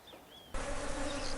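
Honey bees buzzing at a hive, first faint and thin, then a sudden jump to a loud, close, dense steady hum that holds to the end.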